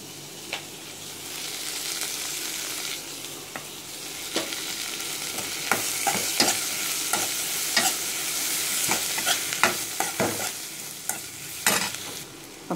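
Onions and tomatoes sauté in a pan for potato masala, giving a steady soft sizzle broken by repeated sharp scrapes and clinks of a spoon stirring against the pan, close and fairly loud.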